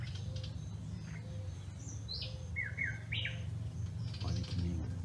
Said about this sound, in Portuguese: Encerro aqui com o canto desses pássaros